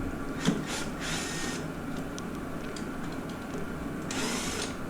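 A wrench ratchets as bolts are loosened and removed on a 2002–2006 Honda CR-V during a starter replacement, giving faint clicking and mechanical rattles in several short bursts against steady background noise.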